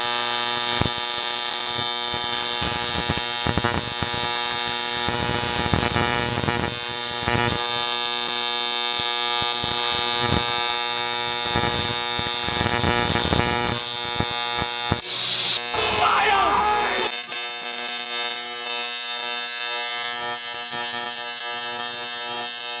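An arc welder burns through a soapstone holder with a dense, crackling buzz that runs on almost unbroken, loud and close, with bursts of sizzle and a brief change in tone partway through.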